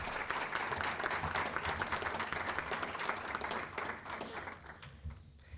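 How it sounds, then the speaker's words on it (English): Steady crowd applause fills a graduation hooding ceremony, dense clapping from an audience sustained throughout and tapering slightly near the end. "Please join me in giving Ellie a round of applause"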